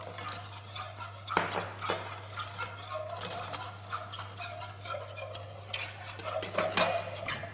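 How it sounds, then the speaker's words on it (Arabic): Butter and flour cooking together in a pan for béchamel, stirred continuously with a utensil that scrapes and taps against the metal, close up over a faint sizzle and steady hum. "دونك البيشاميل نتاعي نطيب الجولدينا والفرينه مع بعضهم لمده دقيقه"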